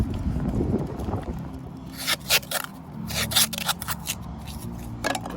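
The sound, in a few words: masking tape being applied to wrap exhaust pipe template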